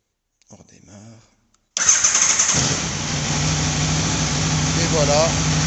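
After a brief quiet voice, a 2021 Aprilia Tuono V4 motorcycle engine cranks and catches abruptly, then settles into a loud, steady idle close by.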